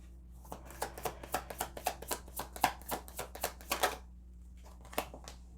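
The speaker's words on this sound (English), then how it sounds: "let's pull the rest of these cards" Tarot cards shuffled and drawn during a card reading: a quick run of close, crisp riffling snaps and flicks, then a pause and a couple of single card slaps, quiet and without talk.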